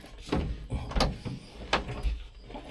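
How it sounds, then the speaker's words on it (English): A few muffled mechanical clunks and clicks from the door lock of an old Mack truck, close by, with quiet rustling between them. "So that locks it. That locks the door."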